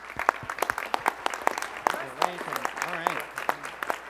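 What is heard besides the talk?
applause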